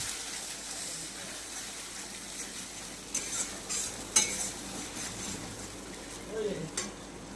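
Tomato and onion paste fries in a pan for a fish kalia, with a steady broadband sizzle and occasional scraping stirs that grow a bit louder toward the end, no voices.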